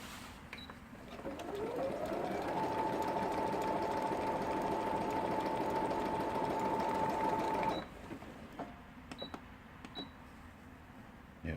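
A repaired Brother DZ2750 sewing machine runs a zigzag stitch, its motor spinning up into a fast, steady whirring hum with rapid needle ticking for about six seconds before stopping, followed by a few faint clicks.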